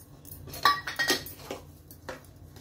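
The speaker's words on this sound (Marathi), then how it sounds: "आणि हे जे तूप उरलेलं आहे तेही मी आता इथे सोडते." Leftover ghee is poured into sheera in a pan, with a few distinct metallic clinks of a ladle against the pan, quiet and close, spaced irregularly.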